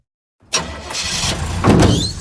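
Cartoon car engine cranking and catching after being hot-wired, starting abruptly from silence with a sharp burst, then a steady running rumble that swells louder near the end; no talking.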